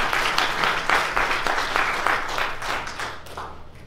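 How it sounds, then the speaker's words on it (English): A church congregation applauds a guest speaker at a Sunday morning service: steady, dense clapping from a large crowd close by that holds for about four seconds, then thins and fades at the end. "Go give him a round of applause this morning."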